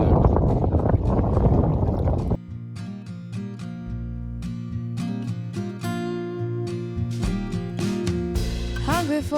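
A chilly southerly wind buffets a sailboat on the Tamar River, roaring and gusting hard against the microphone for about two seconds before it cuts off and guitar music takes over.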